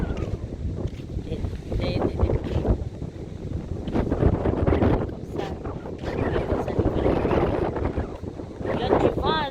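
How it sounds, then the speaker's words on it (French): Strong wind gusts batter the microphone outdoors by the water in a village in Madagascar, a continuous roaring rumble that swells and eases, with faint water sounds beneath. "Il y a du vent"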